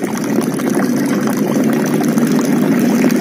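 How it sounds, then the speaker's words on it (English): Water pouring from a green pipe into a tank, a steady, dense splashing rush with a low pump-like hum beneath, loud and continuous throughout with no talking. "water will fall from this green pipe"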